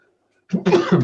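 During a parish council meeting, someone nearby lets out one abrupt sneeze after a moment of silence, a short and fairly loud burst heard alone.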